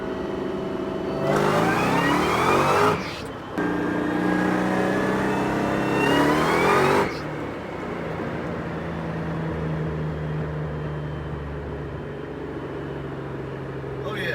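A car fitted with a KB Cobra boost setup pulls hard in third gear, its engine rising in pitch twice in loud revving bursts, then settling to a lower steady drone close by.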